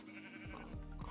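Goat bleating in Minecraft, several short wavering bleats in quick succession, fairly close and clear, with no talking over them.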